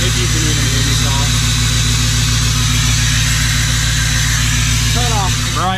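A Ford F250 with a swapped-in 6.0 Powerstroke diesel engine sits at high idle, a loud steady droning rumble that stays constant throughout, close up with no talk over it.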